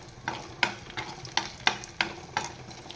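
Potato sautéed in ghee for sabudana khichdi, a soft sizzle under regular scraping strokes of a spoon against the pan, about seven stirs in rhythm, close and fairly quiet.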